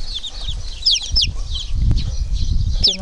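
A small chick peeps in high, sharp bursts close by, with soft rustling and handling noise below.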